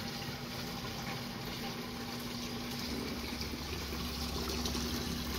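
Steady water rushing and gurgling in a reef aquarium sump as it pumps water back into the tank during a water change, a constant close wash of flowing water with a low pump hum beneath.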